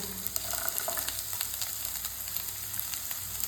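Green chillies, onion and a few cashews fry in hot oil for a malai gravy, giving a steady soft sizzle with faint crackles throughout and no talking.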